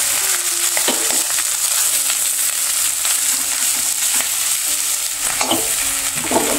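Dosa masala being stirred and mixed in a pan, a steady sizzle of frying with repeated scraping strokes of the spoon at an irregular rhythm, close and fairly loud, no voices.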